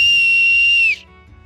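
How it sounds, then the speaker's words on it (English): A shrill, steady whistle made by blowing through an acorn cap held between the thumbs sounds for about a second, then stops sharply, leaving faint background noise. "And it's a whistle, basically."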